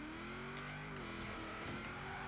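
A classic Ford fitted with a huge V8 races in Forza Horizon 4, its engine droning steadily at high revs with a sustained tonal roar and slight pitch shifts, loud and continuous with no speech.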